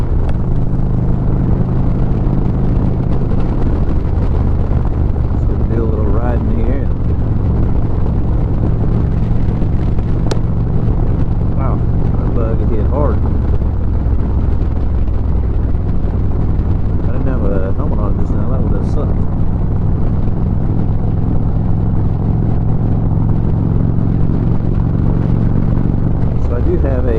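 A 2007 Harley-Davidson Road King rumbles along during a ride, its engine note low and steady under heavy wind buffeting, with a voice talking over it throughout.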